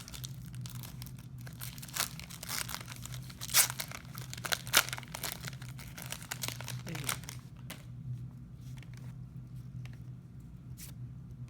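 A Yu-Gi-Oh! Dark Beginning 1 foil booster pack is torn open by hand with close, crackly crinkling and ripping bursts that fade into quieter handling of the wrapper.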